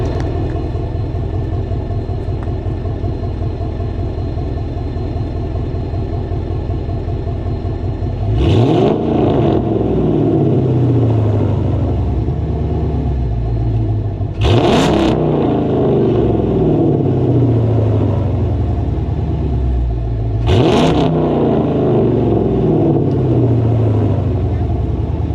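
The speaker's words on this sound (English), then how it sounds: "There goes the revving" A 2008 Dodge Charger R/T fitted with headers idles with a deep, steady rumble, then its engine is blipped three times in loud, sharp revs that quickly fall back to idle, spaced several seconds apart.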